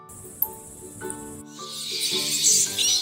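Bat calls rendered as high squeaky chirps and a rising hiss over a soft melodic musical backing, short and bright, with no talking.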